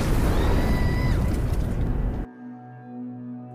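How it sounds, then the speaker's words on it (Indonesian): A loud, dense burst of roaring noise from a police motorcycle exploding in a parking lot in a film, lasting about two seconds, cuts off abruptly, leaving a low steady hum behind. "Beberapa menit kemudian, motor polisi Tamil Nadu meledak di parkiran."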